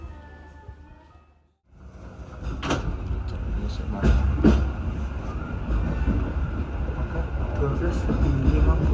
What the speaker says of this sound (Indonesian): Perjalanan kereta api ekonomi lokal KRD Bojonegoro udah tiba dan berhenti di stasiun Babat